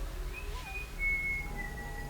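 A faint, thin whistle with a few sliding and sustained tones, distant over a soft background hum.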